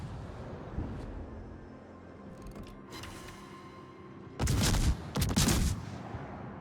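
Naval gunfire in a video game with shells striking an enemy battleship: a low rumbling background, a couple of faint bangs, then two loud, dense bursts of explosive impacts close together near the end.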